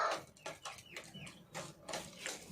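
Kept chickens cluck and murmur close by in a busy, continuous stream of short calls, with some scratchy rustling underneath.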